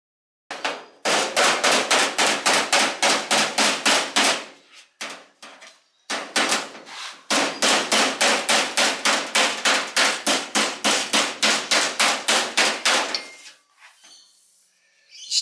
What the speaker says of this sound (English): The style of hammering when you're folding these over